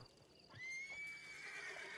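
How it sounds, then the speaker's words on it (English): A horse in the video game Red Dead Redemption 2 whinnies once in a long, high, wavering neigh that trails off, with a faint thud near the start. "Let's whistle for our horse rather than finding him."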